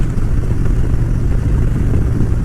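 A Harley-Davidson Dyna motorcycle engine rumbles continuously while riding, a low, steady drone with wind buffeting, heard close and loud throughout with no talk.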